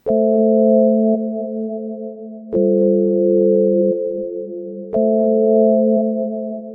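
A held synth chord runs through a Valhalla Supermassive reverb set for hollow, warped delays; three chords sound in turn, each sustained for a couple of seconds with a swelling, slightly wavy tail.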